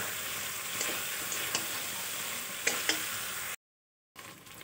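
Pointed gourd, potato and prawns fry in spice paste in a pan, making a steady close sizzle with a few faint stirring scrapes before a brief dropout, then the sizzle returns.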